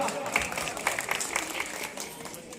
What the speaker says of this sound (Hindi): जख्मी साहब के लिए एक बार ताली जोरदार